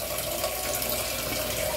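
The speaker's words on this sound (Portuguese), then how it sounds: "Vou encher a panela aqui de água." Water from a kitchen tap runs steadily into a pot at the sink, a continuous close splashing rush with a faint hum beneath it and no voices.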